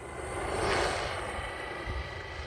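An Arrma Typhon 6S RC car at full throttle, a whining electric motor rising to a loud buzz that peaks and then fades slightly as it speeds away outdoors.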